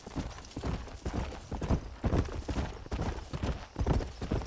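Horse hooves clip-clop in a steady, brisk rhythm on a hard surface, several animals moving close by with no talking, in the video game Red Dead Redemption.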